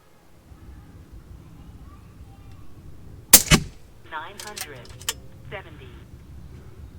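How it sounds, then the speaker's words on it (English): FX DRS Tactical air rifle with HUMA-AIR upgrades fired once, a sharp close crack followed by brief rattling clicks of the action being cycled. "let's try to shoot a group with the Tactical"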